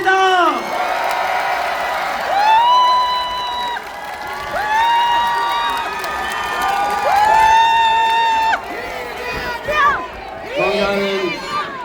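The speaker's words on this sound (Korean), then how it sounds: "우리 기다렸던 이재명 후보님의 연설을 박수로 청하겠습니다" A rally crowd in Busan cheers and shouts for presidential candidate Lee Jae-myung, with loud, overlapping voices rising and falling, whoops and scattered clapping, and chanted calls standing out above the general noise.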